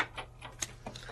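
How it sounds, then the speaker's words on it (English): Quick run of faint creaks and crackles as card stock feeds through a Sizzix die cutting machine, a few small ticking snaps in close succession, no talk. "creaks and cracks are okay. That means it's die cutting."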